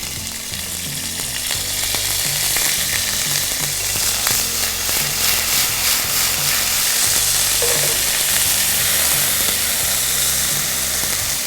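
Whole garam masala, cardamom, cinnamon, curry leaves and ginger garlic paste frying in a pan, a loud continuous sizzle close up with intermittent stirring scrapes throughout and no talking.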